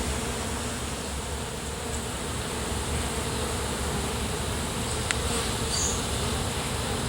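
Bees buzzing during a bee rescue at a zoo: a dense, steady swarm drone that holds unbroken and close throughout, with no talking.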